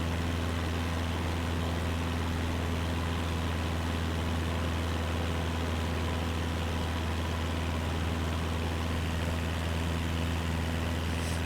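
A light aircraft engine drones steadily while climbing over mountains near Lake Tahoe in Microsoft Flight Simulator 2020, a continuous loud hum with no pauses and no talk.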